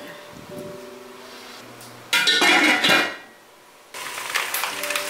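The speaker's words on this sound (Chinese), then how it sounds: "可以盖上锅盖，让它煮滚" A lid goes onto a cooking pot with a clear metallic clatter and ringing after a stretch of quieter kitchen noise, followed by a softer rattle and ongoing clinks nearby.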